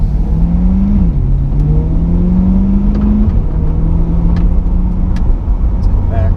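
A 2020 Chevrolet C8 Corvette mid-engine sports car holds a loud, steady drone during launch control, its pitch rising, dipping briefly, then climbing and settling into a sustained hum close by.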